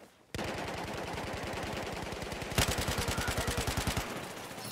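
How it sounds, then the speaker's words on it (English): Machine gun fire in Battlefield 4, a loud continuous automatic burst of rapid, regular shots lasting about four seconds, growing slightly heavier and more distinct near the end before stopping. "That was legit shooting right there"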